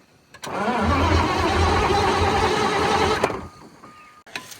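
An engine cranks and catches after a fuel pump repair, a few seconds of steady rhythmic turning over at close range before cutting off, followed by a couple of clicks.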